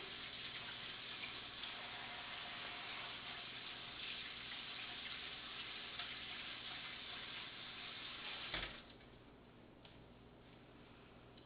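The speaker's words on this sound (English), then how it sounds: "I'm going to rinse my hands again." Hands being rinsed under a running kitchen tap, a steady close wash of water that cuts off near the end, leaving quiet room tone.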